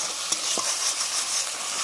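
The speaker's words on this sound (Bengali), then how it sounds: "আদা বাটা, জল দিয়ে মশলাটা কষিয়ে নিচ্ছি।" Ginger paste spice mix cooks down with water in a pan, sending up a continuous close sizzle broken by a couple of brief stirring scrapes.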